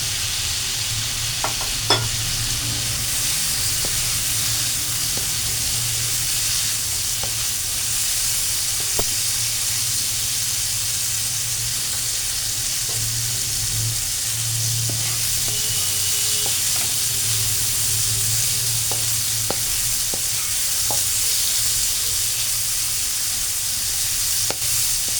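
Cauliflower fries in a pan with asafoetida, a loud, continuous close sizzle with scattered small pops and clicks, and no voices throughout.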